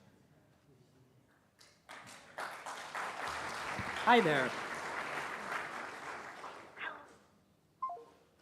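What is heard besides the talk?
audience applauding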